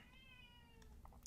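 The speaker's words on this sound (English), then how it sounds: "That is my cat." A house cat gives a single drawn-out meow, fairly faint and indoors, followed by a brief sharp noise at the very end.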